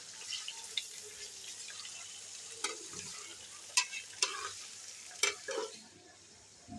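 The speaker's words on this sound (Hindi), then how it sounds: "इसको भी फ्राई करना है जब तक कलेजी पोटा गोल्डन ना हो जाए।" Chicken liver and gizzard fry in a pan, a low, continuous sizzle broken by a handful of sharp utensil scrapes and taps as the pieces are stirred, close and fairly quiet.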